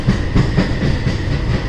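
The Veraval Pune Express rolls past on the Khandala ghat line, a loud close rumble with rhythmic clickety-clack of wheels over rail joints.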